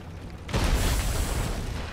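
A ship's cannon fires in the pirate video game Sea of Thieves: a sudden loud boom at half a second, then a broad rumbling roar that sustains under the battle, with no voices.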